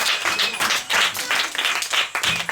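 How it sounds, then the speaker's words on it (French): Children at an orphanage visit applaud together, a dense burst of many hands clapping that rises and falls in uneven waves, loud and close for a couple of seconds. "Applaudissez pour vous-même d'abord."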